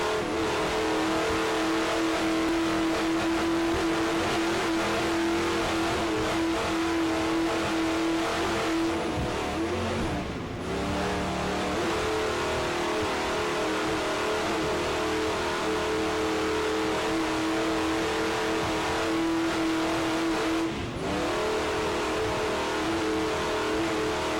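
A Fountain racing powerboat, Black Pearl, in the Super B class, runs hard at full throttle with a loud, steady engine drone and a constant pitch, briefly dipping twice as the hull bounces.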